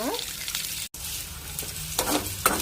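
Spices for a village-style chicken sambar roasting in a pan toward golden brown, a steady close sizzle with stirring scrapes and a few louder clinks, one brief dropout near the start.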